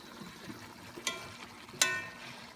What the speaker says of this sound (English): Let's stir it for a while.